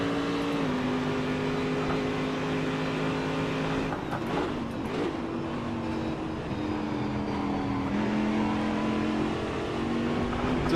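Race car in the Assetto Corsa racing game, a steady engine drone with held pitch and small shifts, a rougher burst of bumps partway through, continuous and close with no talk.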